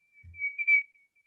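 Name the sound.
whistled imitation of white-throated sparrow Peabody song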